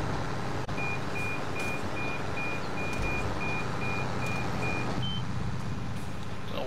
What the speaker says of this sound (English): Don't know why it's beeping at me all the time.